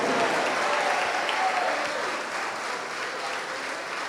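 A church congregation applauds Jesus, a dense, loud wash of clapping from many hands that holds steady for several seconds before easing slightly.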